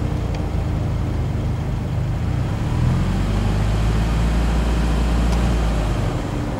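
A manual car engine holding around 2000 rpm as it pulls away on half clutch, a steady low hum with a gentle rise in tone midway, loud and continuous inside the cabin, no talking.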